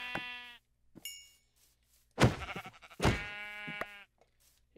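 Sheep in the Minecraft video game give several loud, nasal bleats, spaced apart by short silences, with a couple of soft knocking hits in between.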